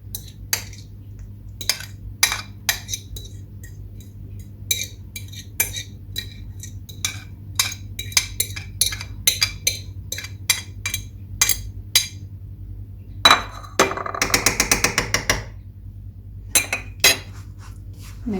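Banana mixture being stirred into date cookie dough in a bowl: a long run of close, irregular utensil clinks and scrapes against the bowl, with a brief burst of rapid clattering near the end.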